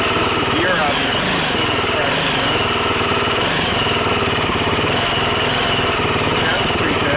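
A small ATV engine, repaired after a wreck against a tree, runs loud and close with a buzzing, steady throttle that holds high revs throughout without pause.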